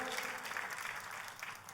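Church congregation applauding, a short burst of dense, fairly distant clapping from many hands without break.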